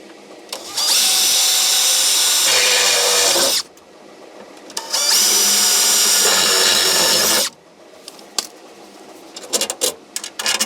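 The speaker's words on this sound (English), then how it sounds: "we're going to go ahead and get some holes drilled" Power drill boring holes for 6mm bolts on a body-swapped Coronet on Crown Vic chassis, two sustained loud whirring bursts of about three seconds each with a pause between, followed by faint handling clatter.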